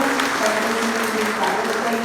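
Audience clapping fills a hall at a welcome gathering, a steady, dense wash of applause that runs without a break from start to finish.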